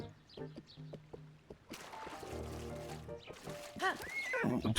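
A horse whinnies in Zelda Tears of the Kingdom, a high wavering neigh rising over quiet game music and hoof clatter, with a few snorts and soft blowing sounds toward the end.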